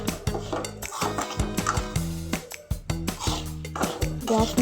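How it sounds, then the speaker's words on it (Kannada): Semolina roasting in a tempering inside a pan on a medium gas flame, stirred with a metal spoon that scrapes and clanks against the pan in a quick, continuous rhythm at close range, with a voice talking over it. "ಈ ಥರ ರವೆನ ಒಗ್ಗರಣೆಯಲ್ಲಿ ಹುರ್ಕೊಳ್ಳಿ"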